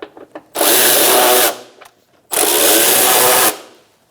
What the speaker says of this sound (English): Tighten this bolt in the bottom corner.